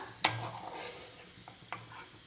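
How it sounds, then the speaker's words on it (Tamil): Cashew nuts roasting in ghee hiss quietly while a utensil clacks sharply against the pan a few times as they are stirred, the sizzle soft and close. "நெய்லேயே முந்திரி பருப்பு நல்லா வறுபட்டுடுதுங்க"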